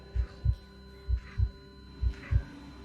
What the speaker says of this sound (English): With his heart pounding,